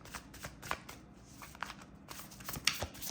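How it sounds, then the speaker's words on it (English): Tarot cards riffled and shuffled by hand, soft papery flutters and snaps recurring in short bursts, close and fairly quiet with no talking. "I'm gonna pull a few cards to kind of get some clarity."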